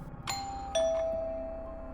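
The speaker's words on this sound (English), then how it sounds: "when the doorbell rang" A two-tone electronic doorbell chime, ding then dong, the second note ringing out and slowly fading in a quiet room.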